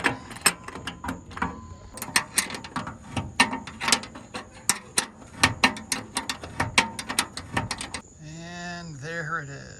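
Roof rack nuts being tightened on a Nissan Titan, heard as a rapid clicking ratchet in repeated bursts close by, ending in a squeaky sliding tone near the end.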